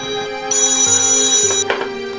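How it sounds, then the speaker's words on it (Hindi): A telephone rings loudly with a bright electronic ringtone in repeating bursts, clear and alone without talk. "मम्मी के लिए फोन है पुलिस स्टेशन से।"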